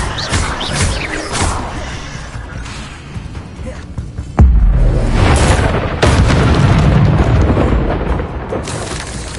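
Spell combat in Hogwarts Legacy on PS4 as Expelliarmus is cast, a loud booming blast striking around the middle among continuous rumbling effects and clashes.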